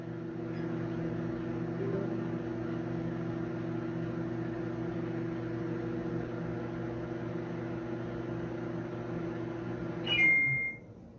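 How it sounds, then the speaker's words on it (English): A Toshiba microwave oven hums steadily while running, a constant low drone with a faint whir, ending with a short, clear electronic beep near the close; no one speaks. "add 10 seconds to the microwave."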